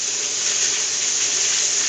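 Beef broth poured into a blender holding barbacoa ingredients and cilantro, a steady close rushing splash of liquid that holds evenly for under two seconds.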